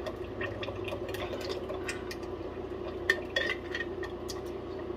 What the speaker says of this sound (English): I've got this plastic spoon that I'm going to use to scoop that in there